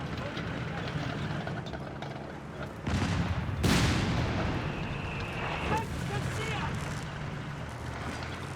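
Cannon and gunfire blasts in the WWII strategy game Company of Heroes 3, a loud burst near 3 seconds and a sharp blast near 3.7 seconds over a steady background of battle rumble, with caster commentary running throughout.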